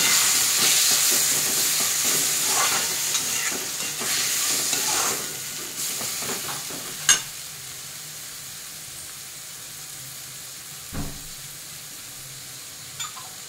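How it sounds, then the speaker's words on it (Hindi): Tomatoes go into a hot spice paste in a pan with a loud hissing sizzle and stirring scrapes, and the sizzle settles to a quieter simmer. A few sharp knocks of the utensil follow, with no talking. "अब इसमें हम डालेंगे टमाटर।"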